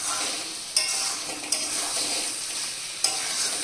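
Curry masala with potatoes sizzles steadily in oil in a pan, a dense bright hiss with a few sharp scraping stirs cutting through, close and fairly loud with no talking.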